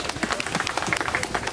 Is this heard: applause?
yes